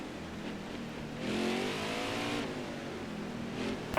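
A race car engine in NASCAR Heat 5 at Sonoma revs under throttle with a steady, loud whine that swells partway through and then holds, heard up close.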